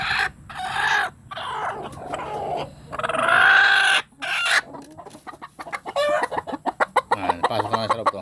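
Basilan native chickens at a farm cluck and cackle in a loud, busy chorus with a rooster crowing close by, followed by a run of rapid, choppy clucks toward the end.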